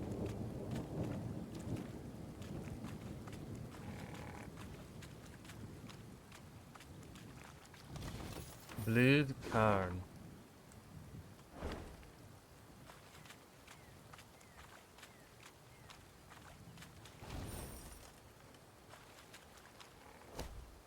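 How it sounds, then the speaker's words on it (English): Thunderstorm with rain in the fantasy video game Thronebreaker: The Witcher Tales: steady rain hiss under a low rumble, with a louder thunder crack near the middle and later fainter rolls, plus brief game-character voice and faint footsteps. "Ooh, spooky storm."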